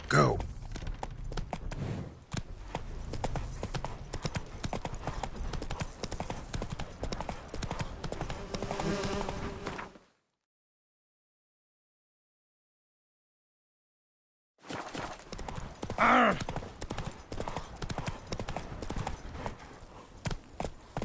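Horse hooves trotting in The Witcher 3 on PS5, a steady rapid clip-clop under game music and rider voices, broken by a few seconds of total silence before the trotting resumes.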